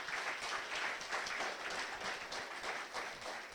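Church congregation applauding, a faint, steady, distant wash of many hands clapping that continues evenly without voices on top.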